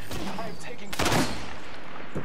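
Video game gunfire strikes the player in a rapid burst of cracking impacts, with a loud close volley in the middle and scattered shots around it, set under a game voice calling out.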